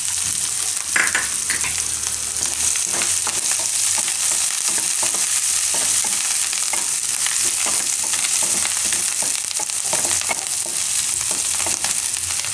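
Green garlic and coriander fry in a pan for Tibetan thukpa soup, giving a loud, steady sizzle broken by close scraping and stirring scratches throughout, with no talk.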